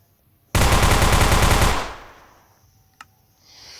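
A short burst of rapid suppressed gunfire from a modded video game weapon rattles loudly for about a second, then fades, followed by a single sharp click.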